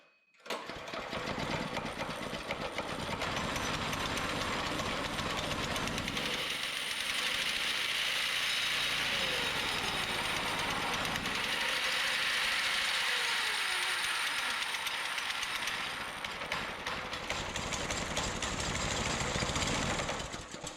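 A home-built go-kart's petrol engine runs steadily and loudly, revving and faltering as it is accelerated, its rough mechanical chatter continuous with no talk over it.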